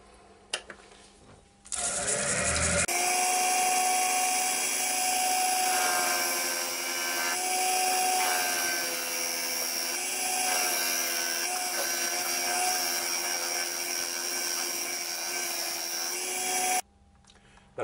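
A small skew chisel cuts a mortise into a maple bowl spinning on a woodturning lathe, a steady whining hum with a continuous scraping edge that runs for most of the stretch before stopping abruptly.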